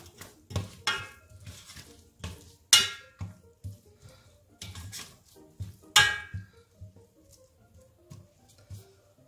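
Finely chopped celery stirred in a bowl while making sea bream with sweet potato, heard as intermittent scraping and clinking knocks of a utensil against the bowl in uneven strokes, fairly close and otherwise quiet.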